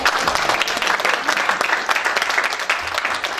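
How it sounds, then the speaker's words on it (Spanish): A church congregation breaks into loud, steady applause to welcome a new member, dense clapping throughout with no talk over it. "le vamos a dar un fuerte aplauso."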